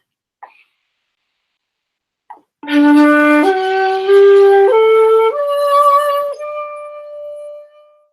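A breathy shakuhachi bamboo flute plays the Ryukyu scale as a slow ascending sequence of sustained notes, one after another, close and clear, after two faint soft breaths.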